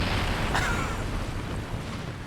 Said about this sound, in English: The explosion sort of just bounced it up in the air.